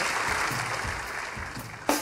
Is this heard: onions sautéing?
no